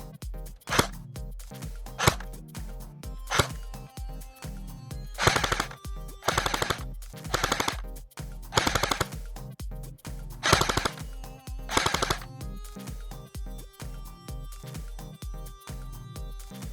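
A CYMA CM.028U AK-47 type airsoft gun firing, first a series of evenly spaced single shots, then several short automatic bursts with a quick mechanical buzzing rattle, close and clear.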